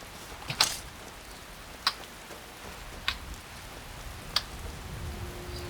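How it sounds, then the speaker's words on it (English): Steady rain hisses softly over a wet landscape in the video game Skyrim, with a few sharp ticks and drips standing out every second or so. "it's wet and it's raining and disgusting"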